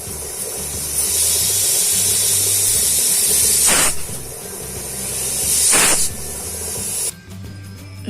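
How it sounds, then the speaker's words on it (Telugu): A pressure cooker cooking mango dal lets off a loud, continuous hiss of steam, punctuated by two sharper whooshing bursts before it cuts off. "కుక్కర్ విజిల్ వేసి చల్లారిపోయిందండి"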